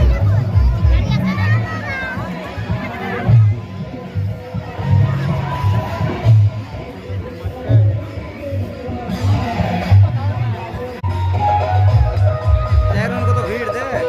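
Dense crowd hubbub at a big Makar fair on the bank of the Dwarakeswar river, a steady wash of overlapping voices and children's chatter close around, with nearer speech rising above the babble now and then.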